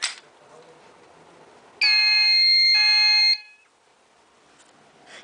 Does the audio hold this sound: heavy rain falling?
no